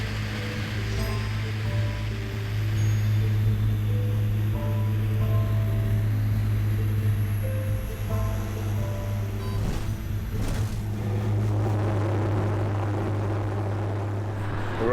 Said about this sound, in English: It's quite busy, a lot of airplanes landing.